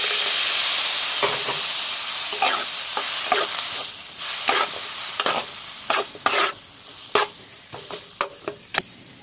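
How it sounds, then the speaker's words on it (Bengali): Lightly roasted semolina (sooji) in a pan, with small splashes of water added in stages, hisses and sizzles under repeated scraping stirs, close and loud, the bursts growing sparser toward the end. "এবার আমি অল্প অল্প জল দিয়ে আবারও নেড়েচেড়ে নেব"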